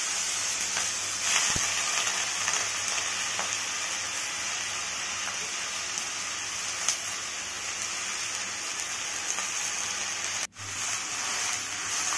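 Washed drumstick leaves (murungai keerai) added to a hot pan for poriyal give a steady, even sizzling hiss throughout, moderately quiet, with a couple of faint clinks and a brief dip near the end.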